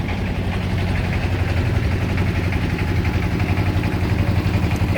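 A reserved trawler boat's engine runs steadily and loudly on a holiday trip toward Mokhsa Beel, a continuous low throbbing drone close by with no talking over it.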